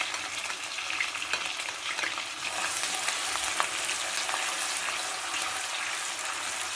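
Chopped onion drops into hot oil with garlic and ginger paste and fries in a loud, dense, continuous sizzle close by, with faint stirring scrapes throughout.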